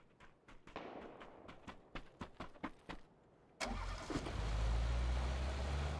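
A car in PUBG starts up: a string of sharp clicks and footstep-like taps, then the engine catches with a sudden roar and settles into a loud, steady idle.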